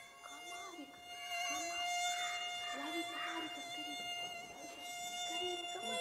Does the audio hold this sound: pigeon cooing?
no